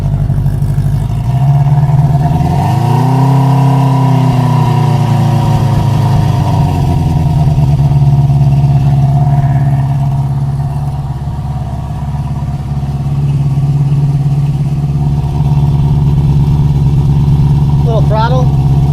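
A 1973 Honda CB350 Four motorcycle engine idles close by with a steady, low, even hum that barely changes, while people talk over it.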